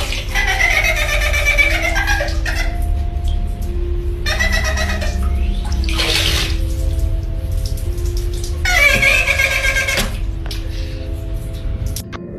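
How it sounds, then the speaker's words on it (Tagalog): Steady water splashing and spattering from a running tap, fairly close, with occasional squeaky, laugh-like tones rising over the flow. "bigla na lamang gumana ang gripo na ito"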